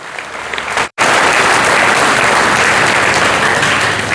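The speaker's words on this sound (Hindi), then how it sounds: "तालियां हो जाए।" A large crowd at a public gathering in Julana bursts into loud, sustained applause. After a brief cut near the start, the dense clapping fills the space evenly and stays close and full throughout.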